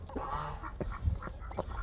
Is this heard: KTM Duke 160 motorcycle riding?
no